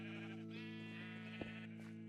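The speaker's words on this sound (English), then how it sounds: "a gazillion sheep pushing up against you" Sheep bleat in Minecraft, a close, drawn-out wavering bleat with layered voices from a crowded pen, quiet and alone without talk.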